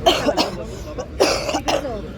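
Several sharp coughs in short bursts, close by, with a bit of throat clearing between them.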